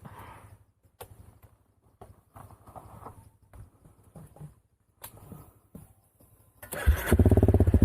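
A Honda CRF 300 L motorcycle engine cranks and catches near the end, bursting into a loud, rough idle after several seconds of quieter clicks and clatter.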